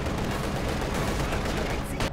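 Cannons and gunfire in Company of Heroes 2 rumble in a dense, continuous barrage, loud and close, with overlapping blasts and shots running without pause.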